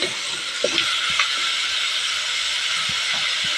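Mutton pieces frying in a little oil with turmeric and salt, giving a steady close hiss and sizzle throughout, with a few faint clinks near the start and no talking.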